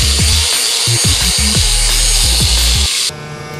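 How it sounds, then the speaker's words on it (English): A power grinder working sheet metal flat on an engine bay panel, a loud buzzing whine cut into short repeated bursts as the tool bites and lifts, then easing off at the end. "Grinded this down nice and flat."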